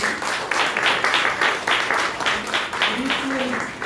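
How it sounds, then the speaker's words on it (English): An audience gives a round of applause at a memorial awards ceremony, a fairly loud, continuous clapping with a pulsing rhythm and faint voices mixed in toward the end. "Please give a round of applause for her."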